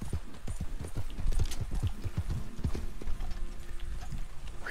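Rhythmic clip-clop of a horse's hooves in a Western video game, steady and fairly close, with a faint mechanical ratcheting underneath and no talk.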